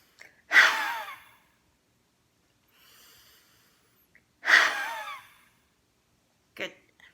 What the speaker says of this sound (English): stick out our tongue and breathe out through our mouth really forcefully